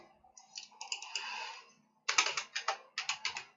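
Typing on a computer keyboard in two bursts of quick clicking key presses separated by a short pause, close and moderately loud, with no speech over them.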